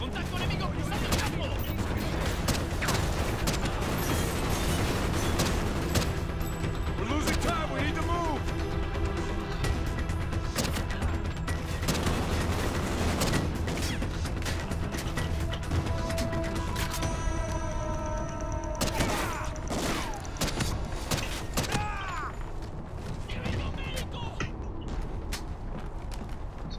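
Rapid bursts of gunfire from a hard-hitting, low-ammo gun in Call of Duty: Ghosts crackle continuously alongside clanking and other busy action noise, with voices talking underneath.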